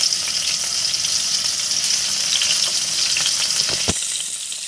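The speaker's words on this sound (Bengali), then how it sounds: "দিচ্ছি আলু, তাওয়াও গরম হয়ে গেছে।" Potatoes frying on a hot griddle give a steady, close sizzle and crackle of oil, with a brief sharp clatter near the end and no talking.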